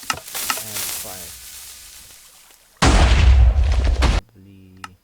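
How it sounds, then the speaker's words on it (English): A TNT cannon blast in a video game, several shots firing together into one big explosion: a loud roaring burst of about a second and a half, following a stretch of talking, with a voice resuming after it. "That explosion isn't to one shot, that's around 5 shots, and it does that much of a big explosion."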